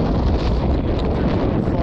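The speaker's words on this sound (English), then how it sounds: "The wind is howling now" Howling wind buffets the microphone outdoors at a Union Civil War camp site during metal detecting, a loud, constant rumbling roar with no voices.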